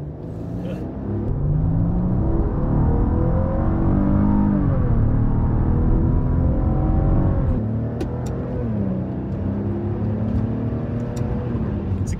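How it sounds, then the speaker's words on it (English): Ferrari-derived engine of a Maserati Ghibli growls deeply while driving, a steady close rumble that swells and eases slightly over about 12 seconds. "there's a growl in this car, it makes it more fun to drive"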